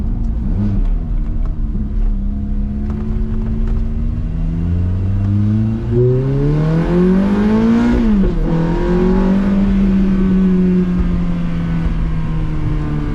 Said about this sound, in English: These cars and this V8 are so much fun.